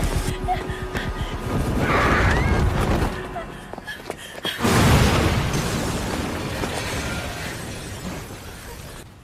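Two heavy bomb explosions thunder through a dramatic scene in the film Parasyte, the second louder, with shattering debris and rumble trailing off beneath voices.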